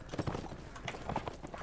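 Galloping hooves of horse archers in the medieval combat game Mount & Blade: Warband, a soft, quick irregular clatter heard briefly and fairly quietly.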